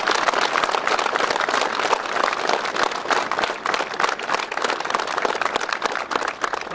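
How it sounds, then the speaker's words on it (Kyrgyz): Loud, continuous clapping from a seated audience applauding the parents at a ceremony, close and dense with uneven rhythm throughout. "Ошон үчүн ата энелерге кол чаап койсоңуздар"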